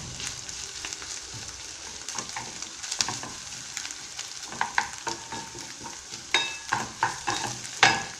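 Eggplant fries in a pan with a soft, continuous sizzle, broken by irregular scraping clicks of stirring that grow louder and more rhythmic toward the end.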